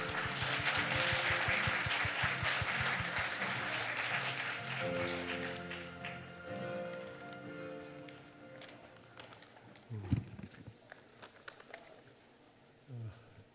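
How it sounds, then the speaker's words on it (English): An audience at an APEC SME workshop claps in dense applause that fades over several seconds, giving way to a quiet room with a few scattered thumps and shuffles. "please welcome him with a big round of applause"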